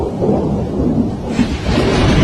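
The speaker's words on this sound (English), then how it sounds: "The night is alive with the flashes of lightning and the rumble of thunder" Deep thunder rumbles loudly through a night rainstorm outside a house in Mexico. A sustained roll swells toward the end over a steady hiss of rain.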